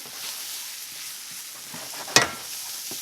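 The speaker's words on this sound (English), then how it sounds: "We'll cook this down to a roux." Flour and fat cooking into a roux for a rabbit mustard cream sauce, giving a steady low sizzle with soft stirring scrapes and one sharp clatter near the end.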